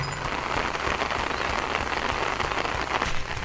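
Heavy rain pours steadily onto a waterlogged golf course, a dense, constant hiss of drops hitting turf and puddles, loud and close without pause and with no talking.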